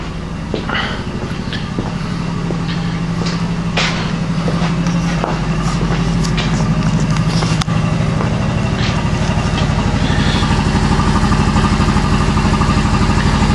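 A Quincy QR-325 air compressor chugs away nearby, a loud, rhythmic low pulsing that runs throughout with scattered clanks and rattles over it.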